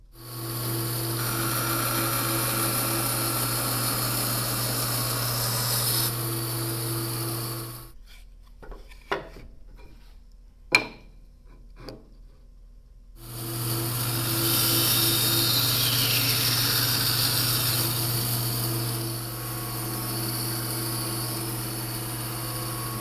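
A bandsaw runs with a steady hum while cutting notches in plywood for a walnut side table, with two long stretches of sawing broken by a quiet pause holding a few faint knocks and clicks of handling.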